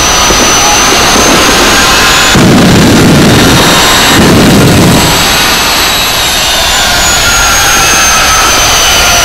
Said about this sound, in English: There's a bloody jet-powered Chevy Blitz coming my way.